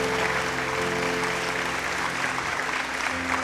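Studio audience applauding on a Telemundo television set, steady dense clapping throughout with a sustained musical tone underneath.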